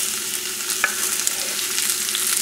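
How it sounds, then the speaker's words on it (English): Shallots and garlic sauté in a hot pan, giving a steady close bright sizzle with faint stirring ticks throughout. "we're going to saute the shallots and the garlic."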